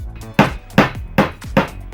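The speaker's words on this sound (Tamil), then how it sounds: "இப்போ இந்த ஆணியை சுத்தியல் வச்சு அடிச்சா ஆகும்?" A hammer drives a nail in four evenly spaced, loud, close strikes about every 0.4 seconds, each a sharp ringing knock, with no talk.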